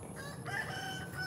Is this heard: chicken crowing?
yes